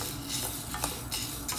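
Lentils dry-roasting in a hot pan, with a steady faint sizzle and occasional scraping stirs of a utensil against the metal, close and continuous with no voices.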